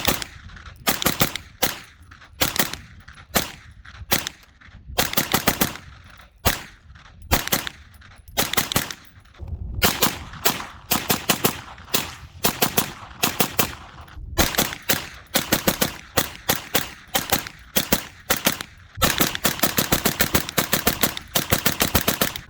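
Rapid, loud shots from a Palmetto State Armory PSA AR9 pistol-caliber carbine (a blemished unit) crack out in quick strings and bursts with short pauses between, close and sharp throughout, with no talk.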